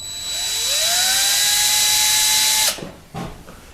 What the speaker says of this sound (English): So we're going to drill down